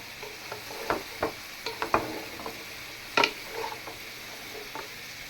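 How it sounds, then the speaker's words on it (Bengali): Meat sautéing in one pot and vegetables in another on the stove, with a spoon scraping and clinking in scattered strokes over a soft, steady sizzle, close by, with no talking. "তো মাংসটাকে আমি কষাই নিতেছি আর অন্য চুলায় আমি সবজি বসাইলাম"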